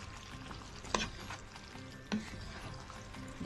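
Food being stirred in a cooking pot with a faint sizzle underneath, two sharp scraping knocks of the utensil against the pot standing out from a quiet background.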